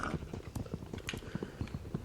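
Minecraft horse hooves: steady, rhythmic clip-clop clicking on a hard surface, several quick taps in a row at close range with no voices.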